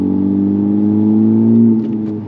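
A Honda Civic Type R FK8, street-tuned with a Cobb Accessport, pulls under acceleration with a steady, loud, droning engine note that eases off slightly near the end.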